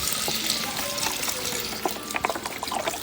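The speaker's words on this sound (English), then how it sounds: "We're gonna pour in our chicken broth." Chicken broth pours steadily into a pot at close range, making a soft continuous splash with a few light clinks.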